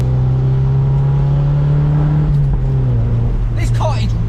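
A Mazda MX-5 engine drones steadily from inside the cabin, pitch rising and dipping as it accelerates, with a voice talking over it.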